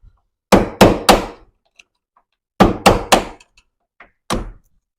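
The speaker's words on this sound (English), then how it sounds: "Just using a flathead screwdriver and a hammer. Popped it right up just like that." Hammer taps on a flathead screwdriver driving out a truck door hinge pin clip: two bursts of three sharp metallic strikes each, then a single hit, close and loud with no talking.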